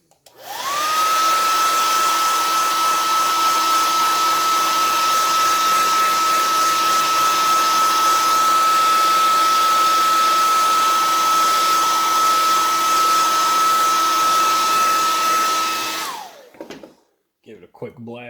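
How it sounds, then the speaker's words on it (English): A hair dryer blows steadily and loudly for about sixteen seconds with a constant whine, used to speed-dry paint on a drybrushed miniature, then cuts off abruptly. "Give it a quick blast with the hair dryer."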